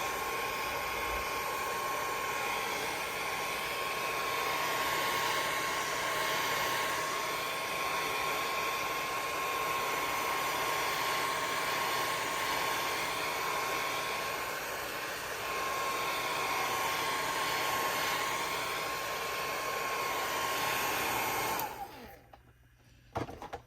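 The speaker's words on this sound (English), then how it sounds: "it doesn't hurt to run the hair dryer for a second or two" A hair dryer drying paint runs continuously with a steady whirring blow and a high whine for over twenty seconds, then switches off.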